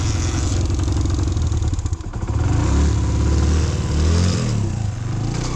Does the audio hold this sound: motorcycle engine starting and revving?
yes